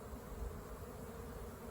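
Honeybees buzz at a hive in early spring, a steady, low, continuous hum of many bees close by, with no voices over it.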